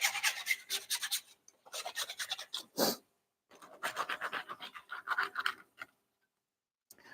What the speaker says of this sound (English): By continuously scraping the flanges, we prevent plastic building up